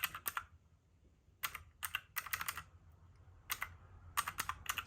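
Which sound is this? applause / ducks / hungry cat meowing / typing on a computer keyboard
typing on a computer keyboard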